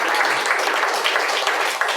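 An audience claps at a photographers' talk, dense steady applause filling the whole moment with no pauses.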